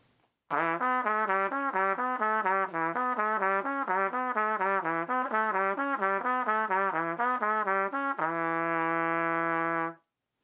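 A trumpet plays a continuous run of smoothly tongued notes with no gaps between them, ending on a long held tone.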